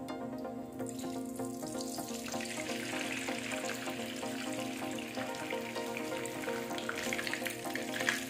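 Cooking oil heats in a pan before salmon goes in, a continuous soft hiss and sizzle with a faint steady hum underneath, close and unbroken, no voices.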